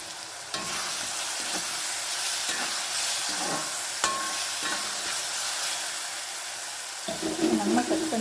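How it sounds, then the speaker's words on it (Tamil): Ginger and garlic sauté in a pan for chicken gravy, a steady frying sizzle with intermittent scraping stirs and spoon clinks close by, and no talking. "நல்லா இஞ்சி பூண்டோட பச்சை வாசனை போகிற அளவுக்கு"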